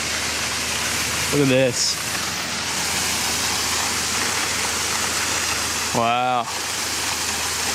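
A roaring waterfall pours steadily and loudly throughout, a dense continuous rush of water beside a road, with brief exclamations from people over the torrent.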